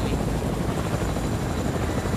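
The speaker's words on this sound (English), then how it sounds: "I got in the chopper." A helicopter's rotor whirs in a loud, constant, dense drone throughout, from a chopper in the Fortnite video game.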